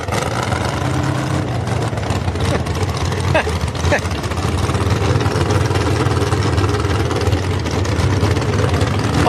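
A pulling tractor's engine at a truck and tractor pull in Fishersville: a loud, continuous roar that holds steady throughout, with an announcer talking over it.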